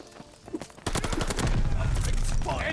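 MP40 submachine gun fire in a Call of Duty: Vanguard hardpoint match: after a few quiet, scattered sounds, a loud, dense stream of rapid automatic shots starts near the beginning and continues without a break to the end.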